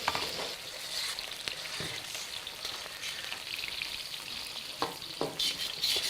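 Food sizzles and crackles steadily in a new wok being seasoned with oil, with a dense hiss and scattered pops and stirring scrapes close by, no talking.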